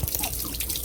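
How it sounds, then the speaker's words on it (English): Water drains from the water heater of a Mallard M-185 camper, a close, continuous trickling and splashing with small drips, alone without voices. "you just want to drain out the water in the water heater"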